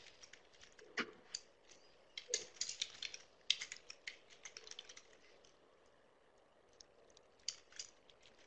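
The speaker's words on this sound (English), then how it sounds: "so that you can see it while Mary finishes typing" Quiet keyboard typing, irregular bursts of clicking keystrokes on a computer keyboard during a webinar, faint and close, with pauses between runs and no talk.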